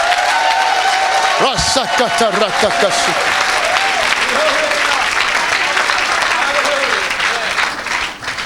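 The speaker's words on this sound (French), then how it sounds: "Est-ce que tu peux acclamer encore pour Jésus?" A church congregation bursts into loud, sustained applause and cheering for Jesus, dense clapping filling the space, with a voice briefly singing or calling out over it before the noise tapers at the end.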